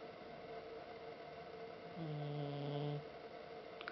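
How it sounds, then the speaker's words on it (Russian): Deep, steady snoring from a sleeping person, one long rough breath standing out over constant background hiss, close and moderately loud. "хватит храпеть"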